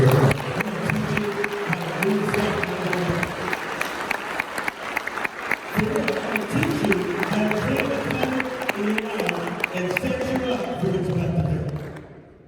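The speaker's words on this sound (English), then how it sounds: "Clap your hands if you're into this." Audience clapping at a motivational talk by a speaker: dense, sustained applause from a crowd filling the room, with voices and cheering mixed in, fading out at the very end.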